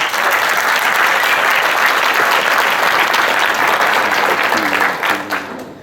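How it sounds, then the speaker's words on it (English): Applause from a banquet audience fills the room, loud dense clapping that holds steady and then tapers off at the end, with a voice briefly heard near the close. "Can we give them a round of applause?"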